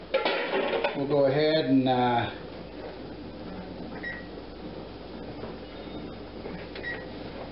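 An electric stove timer gives its last warning buzz while strawberry jam boils on a switched-off burner: two faint, short tones spaced a few seconds apart, heard after a brief stretch of talk, over a low kitchen hum.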